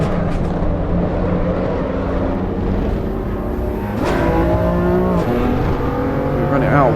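A BMW M2 CS race car at Laguna Seca in Assetto Corsa Evo, its engine droning loud and steady, then climbing in pitch through revs with gear changes, a continuous close-up roar throughout.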